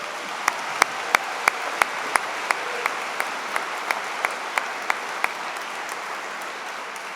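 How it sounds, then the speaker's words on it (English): Steady applause from a convocation audience for a university big band, a broad wash of clapping with some loud nearby claps ringing out through the first five seconds. "Let's give it a big round of applause."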